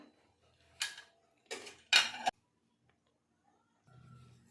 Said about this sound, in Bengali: ঢাকনাটা খুলে নিচ্ছি এক হাতে খুব মুশকিল হয়ে যায়